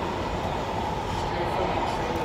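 Steady close rumble and rushing noise from aboard a moving train, a continuous loud roar throughout.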